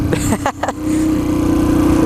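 A Yamaha TTR 125 dirt bike with an end cap exhaust idles with a steady low putter after a couple of brief throttle blips near the start.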